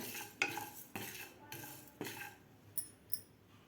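Cumin and coriander seeds being lightly warmed and stirred in a pan, with about six crisp metallic scrapes and clinks of a spoon against the pan at a loose, uneven rhythm.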